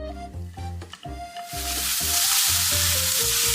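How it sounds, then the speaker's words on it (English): Enoki mushrooms hit hot sesame oil and break into a loud, steady sizzle that swells after the first moment, with rhythmic stir-fry clatter underneath and a musical backing over it. "First, add enoki mushrooms and begin stir frying."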